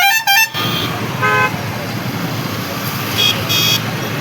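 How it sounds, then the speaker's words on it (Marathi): Car horns honk amid a jammed road at Bidkin market: a loud double blast at the start, a shorter toot near 1.3 s and two more honks near the end, all over steady crowd and traffic din. "फुल ट्रॅफिक जाम झालं."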